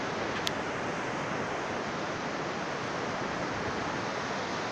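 Steady rushing surf fills the scene, a continuous broadband wash of waves with a faint wind hiss, no voices.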